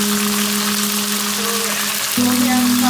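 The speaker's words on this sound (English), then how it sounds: "After 1 minute, I'm going to put chili." Chili and garlic fry together in hot oil for Nepali tomato momo chutney, giving a loud, continuous hiss and crackle close by with a brief faint tone under it and no talk.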